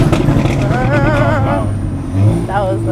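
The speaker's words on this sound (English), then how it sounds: "We're gonna do a few more rumbles without you because we wanna enjoy the car." A 550 bhp car engine revs and rumbles loudly throughout on a London road, rising and falling in a steady close growl with revving sweeps, while people talk over it.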